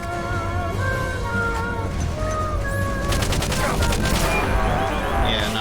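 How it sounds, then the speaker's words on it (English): Machine gun fire in the video game Metal Gear Solid: Peace Walker, a steady run of rapid shots and bursts over game music and effects, growing denser toward the end. "The machine gun does do a decent amount of damage."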